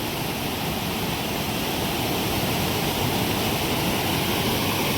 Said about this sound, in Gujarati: એક જ કલાકમાં ડેમ ઓવરફ્લો